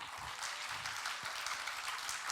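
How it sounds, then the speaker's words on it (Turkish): Applause from an audience at an art and inspiration talk event, a short, fairly faint burst of clapping that sounds steady and moderately distant. "Bir alkış alalım tekrardan."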